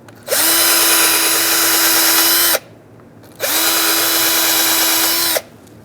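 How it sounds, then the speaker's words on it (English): A wire brush spun by a power drill cleans the cylinder of a front brake caliper on a 2012-2017 Hyundai Accent, two loud, even whirring bursts of about two seconds each with a short pause between, alone without talk. "I'm using a wire brush on a drill."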